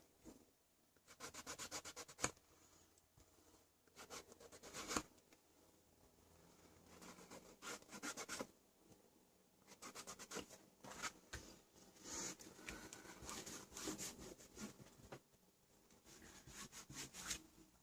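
An art journal page is rubbed against a tabletop in repeated bursts of dry, scratchy friction, close and faint, with short pauses between strokes.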